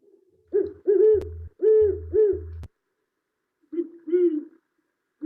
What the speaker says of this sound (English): I'm going to play for you the great horned owl noise